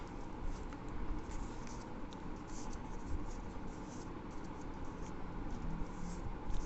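Origami paper for a Sky Manta model being folded, flattened and creased, a steady soft scratchy rustle that runs through the whole stretch at close range, with no voice over it.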